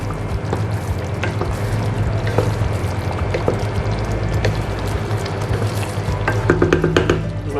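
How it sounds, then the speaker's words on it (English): Marinara sauce with meatballs stirred in a pan, finished with chili flakes and coriander, giving a continuous wet bubbling and sloshing with scattered spoon clicks against the pan, growing busier toward the end. "Give it a nice stir."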